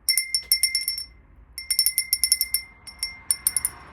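A pastel pink glass bell rung by its clacker gives bright, clear chiming strikes, several quick clusters of rings with short gaps between them, close and fairly loud.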